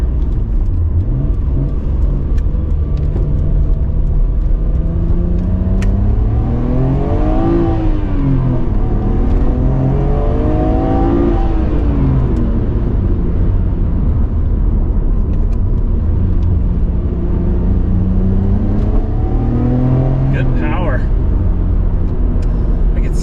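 A 1996 Nissan Skyline GT-R LM V-Spec accelerates hard through the gears, its engine note climbing and dropping in steady pulls beneath constant loud road and cabin rumble, heard from inside the car.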